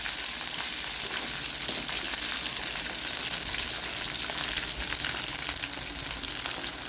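Garlic cloves and about ten dried red chillies fry in oil for spicy chutney, giving a steady, dense sizzle that continues evenly throughout without any talk.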